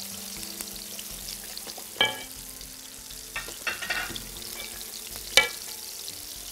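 A sauce with yogurt and starch simmers in a pot, a low quiet bubbling bed broken by three distinct spoon scrapes and knocks of stirring.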